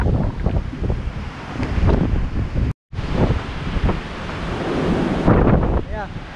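Strong gusts of wind roar and buffet against the microphone, with a brief dropout partway and faint voices mixed in.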